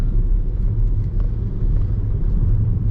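A car drives through the Galaxy Casino complex in Macau, a vast resort still under construction with buses nearby; a steady, loud low engine and road rumble runs unbroken throughout, with no talking.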